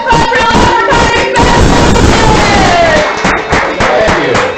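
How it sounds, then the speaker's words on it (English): A bar crowd at a stand-up comedy show cheers, whoops and claps loudly and close for a comedian taking the stage, a dense, continuous roar of voices and hands throughout. "Clap it up for Comic"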